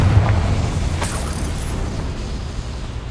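A Confringo blasting spell explodes in Hogwarts Legacy: a sudden broadband boom about a second in, over a steady low rumble that carries on through the rest of the moment.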